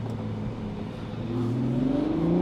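Ferrari 12Cilindri engine revving through downshifts on a test drive, a steady mid-pitched drone whose tone climbs sharply in the second half as revs rise, close and prominent with no talk.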